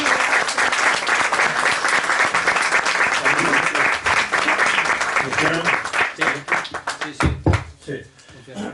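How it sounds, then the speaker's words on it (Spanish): Loud, dense applause from an audience at a Spanish-language book presentation, a steady roar of many clapping hands that breaks into sparser individual claps and fades over roughly nine seconds. "os pido un fuerte aplauso"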